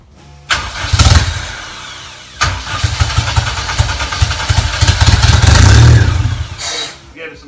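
Honda engine swapped into a Toyota MR2 cranking and firing up, then running loud and close with throttle blips and a rising rev before cutting off, with brief voices nearby.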